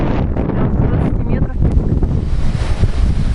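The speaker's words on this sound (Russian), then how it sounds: "Сегодня такой ветрюган." Strong wind by a stormy sea on a rainy day, roaring and buffeting the microphone continuously at close range, with waves churning underneath.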